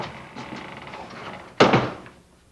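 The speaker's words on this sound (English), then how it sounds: "Shut the door, cameraman." A door shuts with one solid close thud, preceded by light rattling and creaking as it swings, in a building at a chapel entrance.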